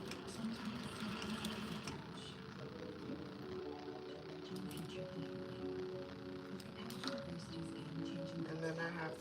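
A sewing machine stitches a halter cut-out dress, running in short bursts of a quiet mechanical whir, with a person speaking faintly over it throughout.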